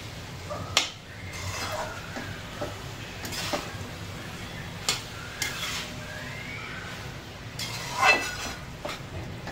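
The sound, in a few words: stirring veg pulao rice in a pot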